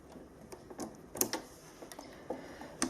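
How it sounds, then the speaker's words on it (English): Presser foot being changed on a Pfaff Ambition 630 sewing machine, a handful of faint plastic-and-metal clicks and taps scattered irregularly in a quiet room. "Then I will attach the buttonhole foot."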